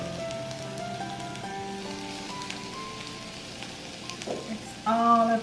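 Black pepper beef sizzles on a hot plate with onion and green onion, giving a soft, steady crackle under background music tones, then a louder burst of sizzling near the end.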